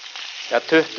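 Chicken browning in a frying pan gives a steady close sizzle, with two brief louder crackling bursts near the end.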